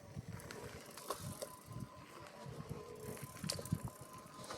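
A GT Grade Current gravel e-bike rolls over loose, sandy terrain, its tyres crunching and scuffing while the chain and freewheel tick and rattle at close range, with no voices.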